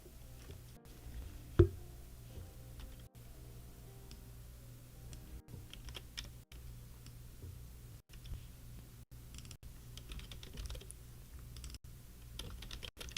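Typing on a computer keyboard, a run of soft, irregular key clicks with short pauses and one sharper tap near the start, close by and fairly quiet.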